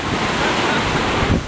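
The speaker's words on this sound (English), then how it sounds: "You got a beautiful beach, San Juan Del Sur" Surf rolls onto the beach at San Juan del Sur, Nicaragua, as a loud, continuous wash of water under heavy wind buffeting close to the microphone.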